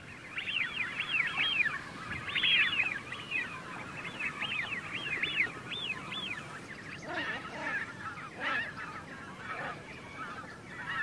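Loud, repeated honking calls of shelducks in quick rhythmic bursts, several birds calling over one another outdoors in Belgium with no talking.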